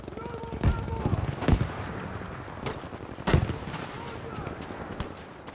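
Scattered gunshots in the video game Battlefield V, a few sharp bangs spaced irregularly over low background noise.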